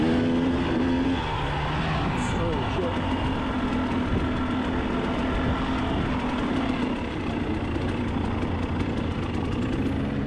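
Several dirt bike engines drone and rev continuously on a hill at the Moab Hard Enduro, a dense, steady mechanical roar with a nearby engine idling beneath it.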